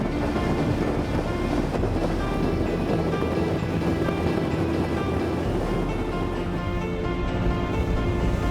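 Steady, continuous motorboat engine drone with rushing water and wind buffeting as the boat drives up the middle of a river under acceleration, loud and close throughout with no voices.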